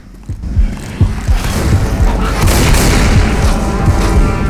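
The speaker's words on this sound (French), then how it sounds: "Fusil à pompe, mec." Loud, continuous game action in Left 4 Dead on extreme difficulty, with repeated heavy booming shotgun blasts thumping through a dense, noisy mix.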